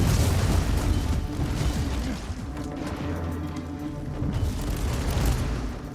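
Turret fire and explosions in the video game Warhammer 40000: Inquisitor - Martyr, a dense run of loud booming blasts and rumbling bursts that carries on through the whole stretch.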